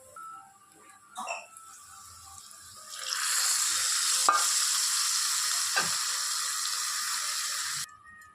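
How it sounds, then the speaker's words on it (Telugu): Hot tempering (popu) poured into buttermilk for majjiga charu: a faint clink first, then a loud, sustained sizzle and hiss lasting several seconds before cutting off abruptly. "ఇప్పుడు ఈ పోపు అనేది మనం మజ్జిగలో వేసేసుకుందాము"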